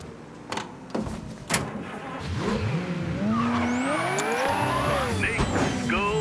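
A car engine in the Mafia III video game starts up and revs, rising in pitch over several seconds with a brief tire squeal, loud and close, after a few sharp knocks at the start.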